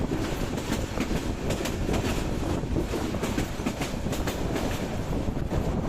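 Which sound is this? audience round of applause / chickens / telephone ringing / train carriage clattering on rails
train carriage clattering on rails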